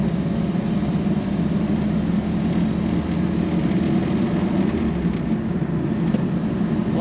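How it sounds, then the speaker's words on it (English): A 1960 Nash Metropolitan convertible's small engine idles smoothly and steadily, a close, even low rumble that holds constant with no revving or talk. "it just purrs along, easy, smooth running little engine"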